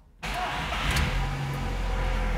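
A Fiat Strada 1.8 E.torQ engine with a faulty phase sensor cranks briefly and catches, then settles into a steady, loud idle that continues to the end.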